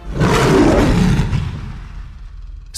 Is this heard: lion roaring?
yes